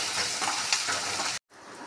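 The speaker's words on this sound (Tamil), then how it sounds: "வெங்காயம் வதங்கிடுச்சு" Small onions with a dried red chilli and a pinch of salt sizzle steadily in hot oil, a dense bright hiss that cuts off abruptly into a brief silence before softer frying resumes.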